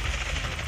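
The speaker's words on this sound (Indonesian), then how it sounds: "Oke, helikopter di belakang Upin." A helicopter in a video game battle thrums as a dense, continuous rotor and engine roar, loud and close across the brief moment.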